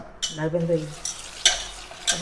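Washed dried prawns sizzle and crackle as they roast in a large hot pan, with bursts of stirring scrapes and a few clattering strokes, close and fairly loud.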